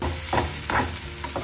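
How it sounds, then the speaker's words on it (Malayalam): Ginger and dried red chilies sautéing in a pan, giving a steady close hiss of frying broken by three soft scrapes of a stirring spoon. "ഇനി ഇത് ശരിക്കൊന്ന് വഴറ്റട്ടെ."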